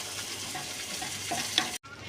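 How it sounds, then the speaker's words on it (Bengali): Potatoes fry with spice paste in hot oil, giving a soft, steady sizzle that stops abruptly near the end. "আমি আলুগুলোও দিয়ে দিলাম, একসঙ্গে ভেজে নেব"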